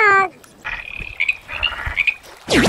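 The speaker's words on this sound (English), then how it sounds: "Green frog." A green frog croaks in a pair of loud, rasping calls at the start and end, with softer chirping sounds between them, and no talking.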